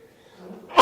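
A single sharp sneeze bursts out near the end after a moment of quiet murmuring, short and loud, close to the microphone in a chess broadcast setting.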